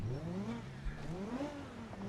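A video game car missing a wheel accelerates away, its engine note rising and falling in pitch over about two seconds, fairly faint and steady.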